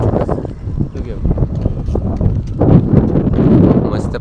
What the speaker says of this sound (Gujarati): મસ્ત પવન આવે. આવા પવનનું એન્જોય કરો.